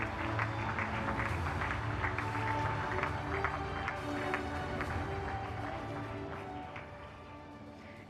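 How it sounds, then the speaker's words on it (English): Audience at an Indian community hall of fame awards ceremony claps in a dense, even round of applause that stays moderately loud and slowly tapers toward the end. "Can you please give us a round of applause?"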